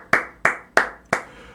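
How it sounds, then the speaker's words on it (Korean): Four sharp, evenly spaced hand claps ring out close and loud in a quiet room, each with a short decaying tail. "리뷰하기 전에 우선 박수 한번."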